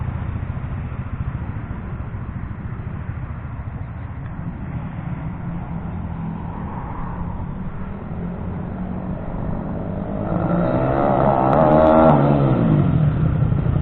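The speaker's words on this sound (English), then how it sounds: "Hold that half throttle, then go full throttle." A Kawasaki KSR 110 minibike engine revs loud and close, building from steady throttle to a harder full-throttle rise near the end, with no speech.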